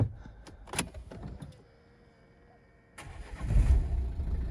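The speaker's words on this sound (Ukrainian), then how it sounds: "Ось давайте заведемо. Ключі в мене в кишені, і автомобіль буде заводитись так" A 2012 Renault Megane 1.5 diesel starts with a push-button start: a few soft clicks, a quiet pause, then the engine cranks and catches into a close, rumbling diesel idle.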